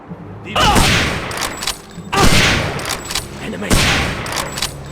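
Bursts of WWII-era gunfire in the PC game Hidden & Dangerous 2: three loud volleys of rapid shots, each followed by a brief lull, with faint background activity between them.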